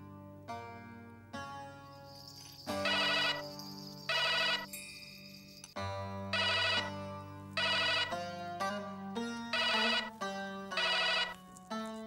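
A phone ringtone plays a repeating electronic melody in rhythmic bursts, clear and fairly close, with no voices over it.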